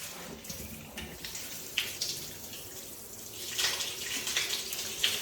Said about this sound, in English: we'll put some water on it and show you the difference with the glass